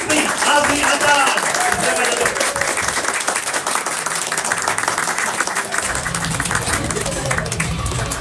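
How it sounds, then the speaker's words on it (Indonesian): A crowd applauds loudly and continuously, with voices and cheering mixed into the clapping. "Marilah kita bagi satu tepukan gemuruh"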